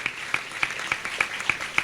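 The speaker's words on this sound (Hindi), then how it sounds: "ताली बजा के प्रभु को धन्यवाद।" Church congregation clapping in thanks during a Hindi worship service, heard as about seven regular, evenly spaced claps over a faint background hum.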